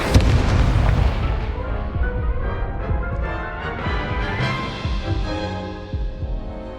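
Confringo and Incendio spells burst in Hogwarts Legacy, a dense run of loud, rumbling booms and crackling blasts rolling over each other close up for several seconds with no pause.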